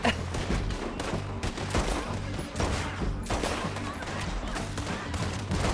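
Rapid gunfire crackles in Red Dead Redemption 2, a loud fusillade of several shots in bursts over about six seconds with a brief lull in the middle.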